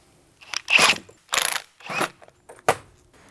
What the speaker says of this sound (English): Now we will take the impact gun and start releasing the spring compressor.